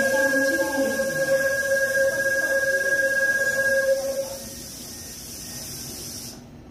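Train departing Cheonan station on the Gyeongbu Line, with a sustained hiss and humming tonal drone that holds for about four seconds and then fades, leaving a quieter rumble that cuts off at the end.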